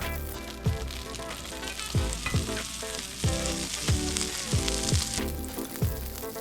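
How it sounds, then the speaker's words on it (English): Pork sizzles and crackles steadily in butter in a hot pan, with rhythmic scraping strokes as it is stirred, close up and no talking. "as my butter starts to sizzle, I'm gonna go ahead and add my pork"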